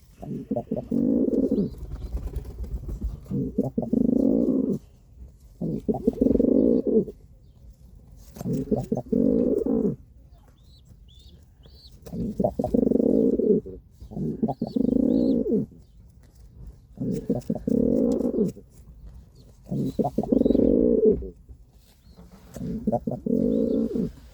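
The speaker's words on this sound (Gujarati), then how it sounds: "જો મિત્રો, ઉડાનનો પારેવો ઘૂઘે છે ભાઈ" A pigeon coos in repeated low, throaty bursts separated by short pauses, close and clear, continuing steadily throughout.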